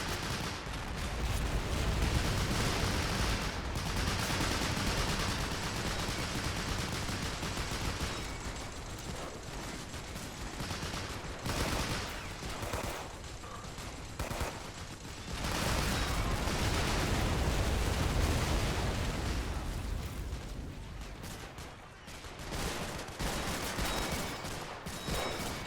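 Dense .50 and .30 caliber machine gun fire rattles nonstop during a USMC beach landing battle in the game Men of War: Assault, with overlapping bursts and mechanical clatter.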